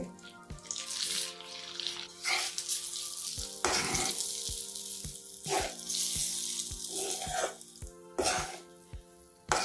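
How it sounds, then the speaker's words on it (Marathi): Ghee is poured into roasted maida flour in a hot pan, raising a close, loud sizzle and crackle with repeated clunks and scrapes of a spoon, with no one talking. "आपण जेवढं तूप घेतलं ते आता मी सगळं टाकणार आहे."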